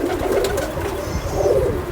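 A Neelay Kamangar pigeon coos close by, a steady throaty low murmur that rolls on without a break for two seconds, with no voices over it.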